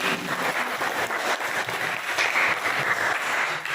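Students in an Indonesian school classroom give a loud, steady round of applause that lasts the whole stretch, with no talking over it.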